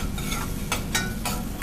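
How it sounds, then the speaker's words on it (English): Ginger and cumin seed sizzling in hot corn oil for aloo jeera, a steady close crackling hiss with a few brighter bursts of spattering, no talk over it. "Oh, that's such a lovely sound, isn't it? The sizzling."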